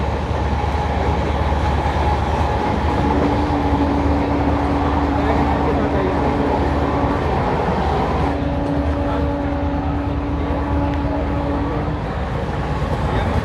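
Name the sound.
12482 Shri Ganganagar Delhi Intercity train passing Mundka station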